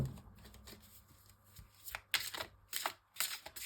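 Tarot cards are handled and shuffled with a run of crisp papery riffles and snaps, growing louder toward the end, with no talk over them.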